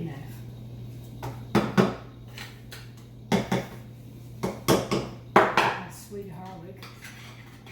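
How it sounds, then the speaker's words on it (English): Strawberries stirred in a bowl with a utensil, giving several sharp scraping clacks in short bursts, close up, with a person speaking briefly between them. "let's stop and stir it up here and see if they're sweet"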